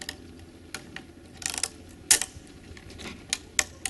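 Ratchet straps cinch down snowmobile skis on a 2009 Polaris Dragon 800 with a series of sharp, uneven mechanical clicks, close and moderately loud, with no talking.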